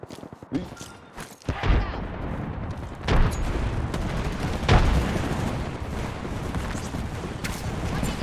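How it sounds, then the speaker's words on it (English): A frag grenade is tossed and bursts in a chaotic shooter game, with a few heavy booms rising out of a dense, rumbling wash of gunfire and noise. "Chucking a frag grenade."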